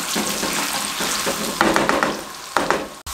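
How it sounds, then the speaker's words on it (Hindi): Potatoes fry in oil with cumin and turmeric over a medium flame, giving a loud, continuous sizzle broken by a few spoon scrapes and stirs nearby. It cuts off abruptly at the end, with no talk. "आलूओं को 4 मिनट के लिए इसके अंदर इस तरीके से फ्राई कर लें"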